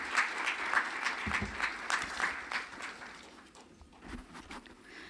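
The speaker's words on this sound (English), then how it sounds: "Can we please greet her with a round of applause?" An audience at a management institute's investment event applauds to welcome a speaker to the stage, rhythmic clapping that is fairly strong at first and then thins out and fades.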